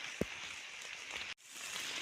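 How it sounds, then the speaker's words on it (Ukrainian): Rain falling in a forest while mushroom picking, a soft, steady wash of patter on leaves with a brief crackle near the start and a short dropout partway through. "Ліс шумить, дощ розходиться."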